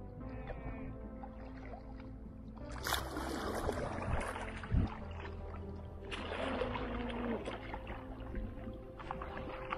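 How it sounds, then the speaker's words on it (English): Stand-up paddle board paddled on Lake Berryessa, California, with soft splashes and water swishes from the paddle strokes over a gentle outdoor background. "Put the paddle all the way down. Now paddle with it."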